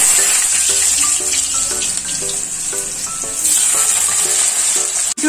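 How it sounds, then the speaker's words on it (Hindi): Chopped potatoes sizzle in hot oil with cumin in a home kitchen pan, a steady bright hiss with light stirring and clinking of a utensil, close and alone. "जीरा अच्छे से पक जाए इसके बाद मैं इसमें आलू डालूंगी जो 7 से 8 मैंने चॉप कर रखी हैं बराबर के साइज के"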